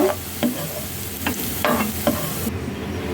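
Spice paste frying in oil over low heat for biryani, a soft constant sizzle with several distinct spoon knocks and scrapes spaced through it, close by and without voices.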